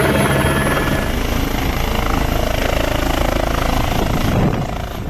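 A helicopter roars loudly and continuously overhead, its rotor chop and turbine whine filling the scene close and dense before easing slightly at the very end.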